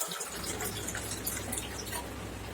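Water pouring steadily into rice in a cooking pot, a continuous soft splashing and trickling that runs throughout at low level with no talk.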